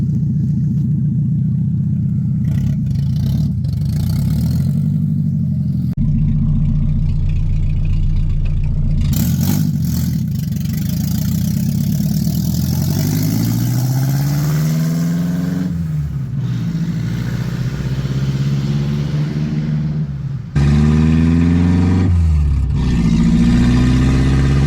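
A Nissan 300ZX swapped to a KA24DE four-cylinder engine drives on a test run with a loud, close drone from the cabin. The engine rises and falls in pitch as it accelerates and shifts, with a brief drop near the end.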